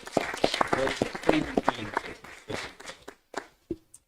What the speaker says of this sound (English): I'd like for y'all to give them a round of applause because they take care of business.